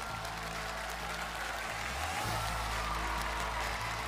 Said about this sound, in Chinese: 掌声有请李伟健战队